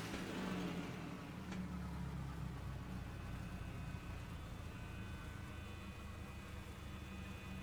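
Cessna 172 engine idling at low RPM in a flight simulator, a faint, steady low drone with a slightly rough, even hum and no talk.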